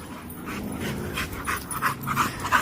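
Two dogs pant rapidly and audibly close by, with quick breathy huffs and a few faint whimpers as they play.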